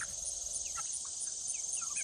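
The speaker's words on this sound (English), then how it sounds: "That's the sound of happy chickens." Soft, scattered chicken clucks and murmurs sound at a distance over a constant high insect-like hiss, faint and relaxed.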